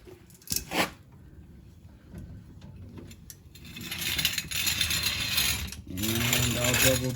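A jack being cranked down to lower a truck after a tire change gives a run of clicking, ratcheting mechanical sounds. The cranking is close and moderately loud, with some handling noise and no speech.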